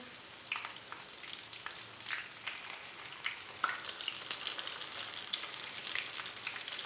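Vegetable cutlets fry in a pan with a soft, steady sizzle and scattered small crackles and pops, heard close and fairly quiet with no talk.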